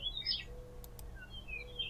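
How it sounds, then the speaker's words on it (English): A mourning dove calls in the video game The Search, with a few short, bright chirps rising over a low ambient hum and a pair of faint ticks in between. "I hear a mourning dove"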